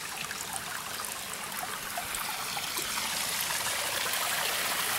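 Garden pond with a waterfall and fountain running, a steady close rush and trickle of falling water with no voices over it.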